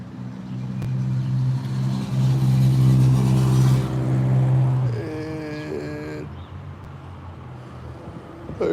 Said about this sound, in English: Like when that loud car drove from me